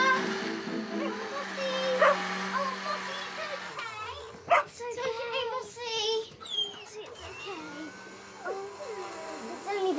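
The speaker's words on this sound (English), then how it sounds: "I think Mossy's barking at something outside" A small cartoon dog barks and yips repeatedly in bursts, with high-pitched whimpers, under children's and adult voices talking in a lively animated scene.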